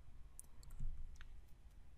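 Computer mouse clicking OK buttons in a settings dialog, with a few quiet, sharp clicks spaced apart against near silence.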